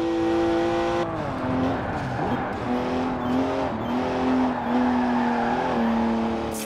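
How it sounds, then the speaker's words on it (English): Three-litre twin-turbo straight-six car engine in the Forza Horizon 4 racing game drones loudly and continuously, its pitch dropping and climbing repeatedly through gear changes while the car drives hard, with light tire noise underneath. "Three-litre straight six,"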